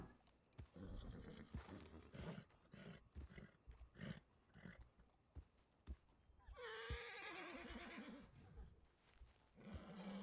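A horse neighs and whinnies loudly near the end after a stretch of scattered thumps and shuffling, with no talking.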